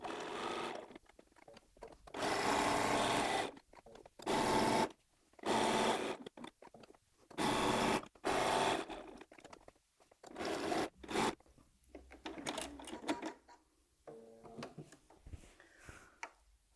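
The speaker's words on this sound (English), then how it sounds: "I'm going to sew these together, leaving a gap for turning." A sewing machine stitching fabric squares and wadding together, running in repeated bursts of rapid whirring stitches separated by short pauses, close and clear.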